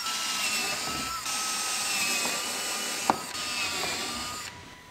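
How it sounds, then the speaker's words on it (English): Power drill whirring through metal to bore holes for a front license plate bracket on a 2019 GMC Yukon Denali, a loud sustained high whine broken by short pauses and a sharp click. "Drill our holes."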